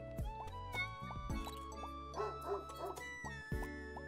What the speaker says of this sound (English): Can you get your bark again?